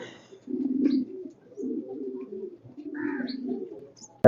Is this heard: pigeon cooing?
yes